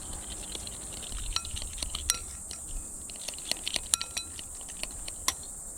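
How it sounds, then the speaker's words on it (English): Seasoning with smoked paprika mixed in a bowl, heard as faint scattered clinks and scrapes of a utensil against the dish in a quiet kitchen. "and just give that a mix"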